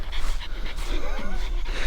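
A dog panting rapidly and whimpering close by, quick rhythmic breaths with a few small whines over the whole clip, loud and near, with a voice briefly talking at the start.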